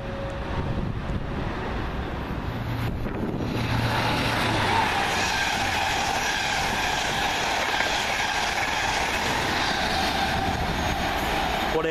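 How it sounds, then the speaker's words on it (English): A Govia Great Northern Class 365 electric train arriving at Peterborough, a loud continuous rumble of wheels and rolling stock with squealing and clatter building as it draws in close, no talking. "Coming into terminate for Govia Great Northern from London King's Cross. 365523."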